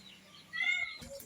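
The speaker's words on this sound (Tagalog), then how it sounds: "Pusa." A pet cat gives a short, faint meow at close range, a single rising-then-falling call over quiet background, followed by a brief soft bump.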